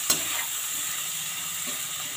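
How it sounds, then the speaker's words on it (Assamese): Chicken meat frying in a pan with ginger garlic paste over low heat, giving a steady, close sizzle and hiss throughout with a brief louder crackle near the start. "এইখিনি মই মাংসখিনি সিজালৈকে ভাজি থাকিম 5 মিনিটমান কম জুইত"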